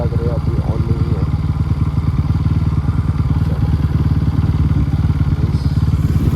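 A Bajaj Pulsar RS200 motorcycle idles up close with a steady, even engine rumble and a fast rhythmic thump that runs the whole time without a break.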